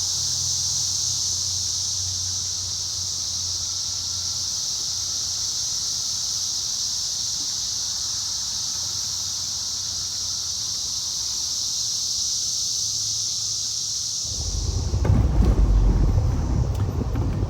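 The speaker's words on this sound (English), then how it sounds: "the sound of the cicadas" Steady high-pitched cicada drone runs continuously, loud and unbroken, with a low rumble underneath; near the end a burst of rustling noise joins in.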